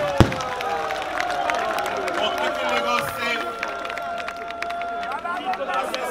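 An outdoor crowd at a Lagos countdown event at Eko Atlantic applauds the city's security agencies, with steady clapping and crowd noise running beneath a man's amplified speech throughout.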